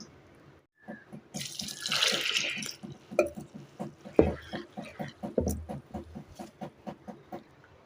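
Sprouted green gram rinsed in water for a gravy, with running tap water, a brief rush and a steady series of rhythmic swishing, patting strokes as the sprouts are washed by hand, close up and without speech.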